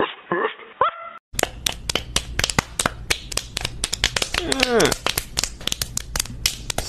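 A dog barks in a rapid series of sharp, loud yaps close by, mixed with crinkling and rustling noises, with a brief voice at the start.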